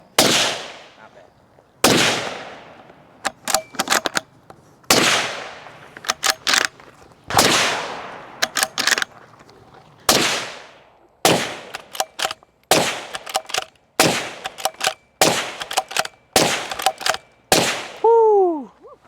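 Suppressed shots from a Ruger American rifle fitted with a Putnik suppressor: a dozen or so sharp, loud cracks fired alone, singly and in quick pairs with short gaps between, close by and outdoors.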